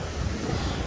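Cool sea breeze along the shore, a steady broadband wind rush with soft surf-like roar and low buffeting, continuous and fairly loud with no voices.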